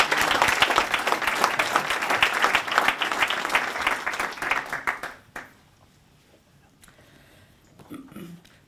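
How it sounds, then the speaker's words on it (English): An audience applauds a fellowship recipient at a foundation presentation, with warm sustained clapping that lasts about five seconds and then dies away into near quiet. "can I please ask you all to put your hands together and congratulate Tom"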